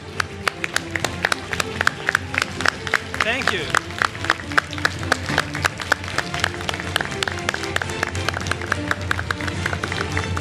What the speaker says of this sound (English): let's give them a very warm round of applause.